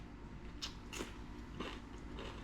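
Close, quiet bites and chewing of braised Vietnamese caramelized catfish with cucumber, tomato and rice, a few soft crunchy bites spaced across a low room hum.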